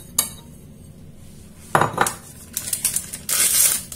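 Eggs going into a mixing bowl for a génoise sponge for a praline Yule log: a sharp crack near the start, then a cluster of clinks and knocks against the bowl, ending in brighter ringing clatter, close and fairly loud without talk.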